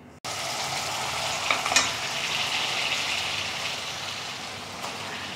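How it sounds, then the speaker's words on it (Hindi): Goat trotters and onions fry on a high flame, giving a loud, steady close sizzle with faint stirring scrapes throughout and no voices. "अच्छी तरह से भूनेंगे, 3 से 4 मिनट तक चलाते रहेंगे और हाई फ्लेम पर भूनेंगे"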